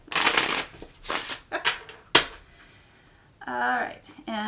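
A deck of cards is shuffled up close in several quick bursts of riffling and snapping, followed by a sharp single snap, then a person speaks briefly at the end.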